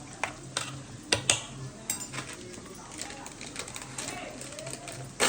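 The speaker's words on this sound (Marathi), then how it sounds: "हे असंच फ्राय होऊ द्यायचं" Biryani masala mixture fries in a pan, a soft, faint sizzle broken by occasional clinks and scrapes of a spoon stirring against the metal.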